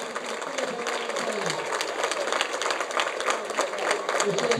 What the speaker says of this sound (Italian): Applausi per eh, lui.